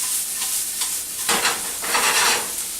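White parts of scallions sizzle in a knob of butter in a hot pan, a bright crackling fry that swells louder partway through as the pan is stirred or tossed, with no voices.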